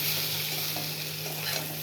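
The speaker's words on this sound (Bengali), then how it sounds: "হলুদ দিয়ে আলুটা ডাঁটাটা ভাজা ভাজা" Potato and vegetable stems fry steadily with turmeric in a pan, with a constant crackling hiss and occasional stirring scrapes, close up, no talking.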